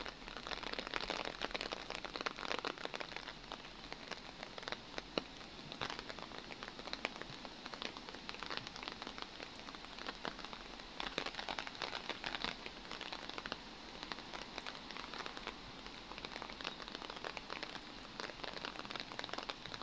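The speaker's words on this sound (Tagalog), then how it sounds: "Maulan." Rain falls steadily in Yuen Shin Park in Hong Kong, a dense, even patter on surfaces with scattered close drops and crinkles, continuing without a break and with no voices.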